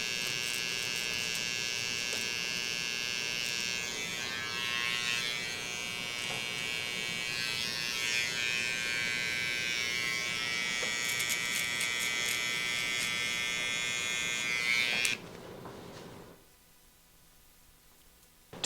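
An electric foil shaver buzzes steadily and close up as it clears stubble while a haircut is finished, a constant high hum for about fifteen seconds before the motor cuts off, then near silence.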